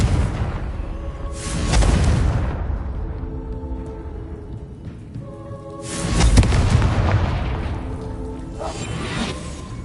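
A Confringo blasting spell fires in a video game, twice: each a rushing whoosh swelling into a booming explosion with a ringing tonal tail, the second blast slightly louder than the first.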